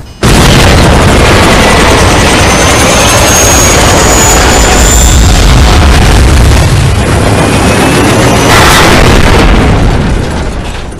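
Helicopter crash landing with a damaged engine in GTA 5 during a tsunami: a sudden loud roaring blast that holds as a continuous, heavy engine and explosion rumble for several seconds before easing off.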